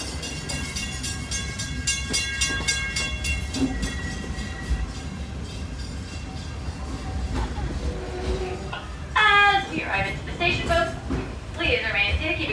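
Walt Disney World Railroad steam train running on the Main Street to Frontierland line, a steady rumble and rolling clatter with a whistle-like tone, under a recorded announcer's voice.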